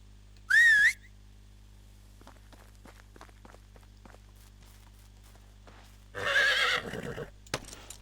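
A horse in the video game Medieval Dynasty gives a sharp whinny, then soft hoofbeats tap along quietly before a second, longer neigh and a few louder hoof thuds near the end.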